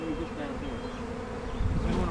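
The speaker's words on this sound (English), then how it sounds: "Look at all these bees." A dense, steady buzz of many honeybees swarming close by, continuous throughout with a brief low thump near the end.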